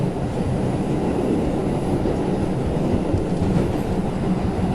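Steady rumble of a train rolling along the rails, a continuous low roar with faint rattling, heard from inside a carriage.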